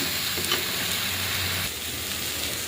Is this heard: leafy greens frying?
yes